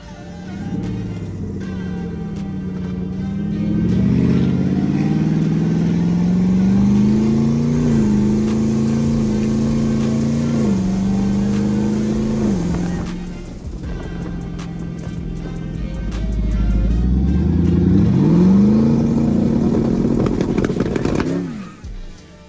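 A twin-turbo Hellcat with a new torque converter roars and revs on a test drive, heard loud and close from inside the car. The engine climbs and shifts in long sweeps, drops to a rumble, then surges hard again.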